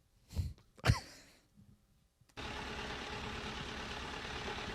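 A pudding cup is handled for a sound-guessing game: a couple of sharp pops and crinkles come first, then a steady close hiss runs to the end.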